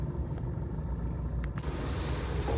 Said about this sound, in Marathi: हे बघा का ते ट्रॅफिक.